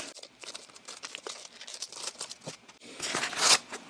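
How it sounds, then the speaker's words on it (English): Scissors cutting open the plastic packaging around two lithium ion batteries, a run of close crinkling snips and crackles that ends in a louder tearing rustle. "Go ahead and cut these open"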